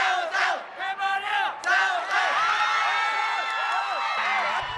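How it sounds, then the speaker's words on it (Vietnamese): Lao and Cambodian fans cheer in a sports arena at the SEA Games 31, a dense crowd roar of shouts and whoops that swells and stays loud throughout. "cổ động viên hai đội diễn tả rõ nét qua những đợt reo hò cùng từng điểm số mà vận động viên đội nhà ghi được"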